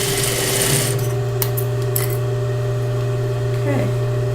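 A sewing machine stitches a seam with a loud, close, steady mechanical hum and a few light clicks and rubbing sounds from handling fabric along the way.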